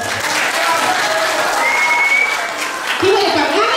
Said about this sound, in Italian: facciamo un applauso a tutti i ragazzi